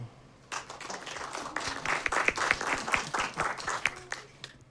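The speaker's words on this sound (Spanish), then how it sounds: "Aplaudan los que creen que el choclo grueso y grande es mejor." A studio audience on a comedy show bursts into lively, uneven applause after a quiet start, with distinct individual claps standing out and some brief voices.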